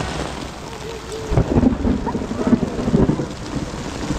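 Steady rain falls through a thunderstorm, with a rumble of thunder building from about a second and a half in and rolling on under the downpour, loud and close throughout.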